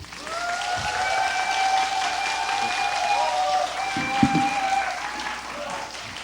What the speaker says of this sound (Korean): 이 시간에 모실 때 큰 소리로 저희 환영하는 박수로 모시도록 하겠습니다